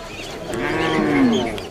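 Dinka cattle give a single long, loud, close moo that rises and falls over nearly two seconds.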